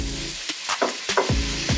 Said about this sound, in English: Now I'm gonna add the regular yellow onion.